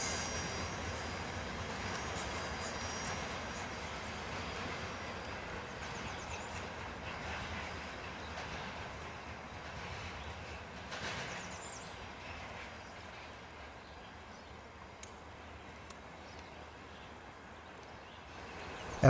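A CSX freight train, Q022, rolls past outdoors as a faint, distant broadband rumble that slowly fades, with a few small knocks near the end.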